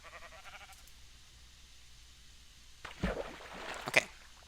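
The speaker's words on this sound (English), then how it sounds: "Damn you, sheep." Sheep bleat in Minecraft, a few short game calls over a quiet background, with a louder burst of cries near the end.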